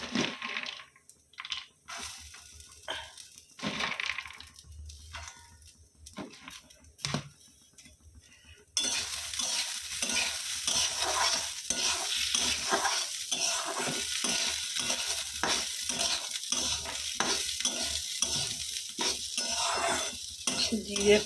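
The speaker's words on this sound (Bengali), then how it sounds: "আর এই ডালটা একটু মিশিয়ে দেবো" A spoon stirs tarka dal in a pan with cumin, five-spice tempering, chilli and bay leaf. Scraping strokes repeat in an irregular rhythm, quiet at first, then joined by a constant close sizzle partway through.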